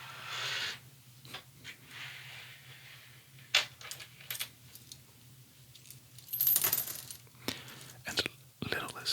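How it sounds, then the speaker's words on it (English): A large, partly filled bag of loose change is handled, with soft jingles and clinks of coins shifting in close, quiet bursts under faint whispering. "This is my little bag of change."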